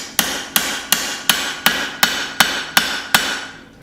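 Hammer striking a knife blade on an anvil while forging an African safari knife, nine loud, evenly spaced ringing blows at about one every 0.4 seconds, close and with no talking.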